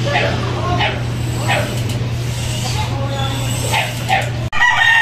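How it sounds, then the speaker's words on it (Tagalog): A gamefowl rooster of a PTM line from St. Haven Game Farm, bought at a 2023 poultry expo, crows several times across the clip over a steady low hum and other fowl and crowd noise nearby. "ito yung manok"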